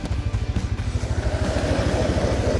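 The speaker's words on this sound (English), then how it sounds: "Grab the auger." A gas-powered ice auger bores through roughly 9 to 10 inches of frozen lake ice while ice fishing in a polar-vortex cold snap, its small engine pulsing in a rapid, steady chug close by that rises into a denser grinding drone as the bit cuts.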